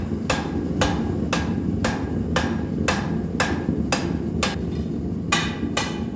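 Hammer blows striking hot metal on an anvil during blade forging, eleven sharp ringing impacts at a steady, roughly half-second rhythm, close and loud over a low background rumble.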